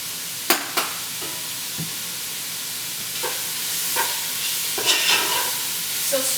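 A spoon stirs homemade pasta sauce in a pan: a few sharp clinks and scrapes at irregular intervals over a soft, low simmering sizzle, close by, with no talking.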